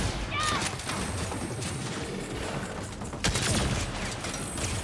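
Sniper gunfire in the video game Saints Row, a dense clatter of shots and impacts over a busy game mix, with a sharp louder crack near the end.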